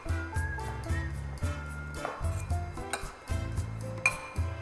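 Vietnamese noodle salad being tossed with sauce in a bowl, utensils scraping and clinking against the dish in a steady run of close, irregular clatter, with background music playing underneath.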